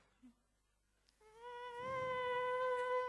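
A man on stage at a comedy concert voice-imitation contest imitates an elephant's trumpet, a sustained brassy, buzzing tone held for about two seconds after a brief quiet start.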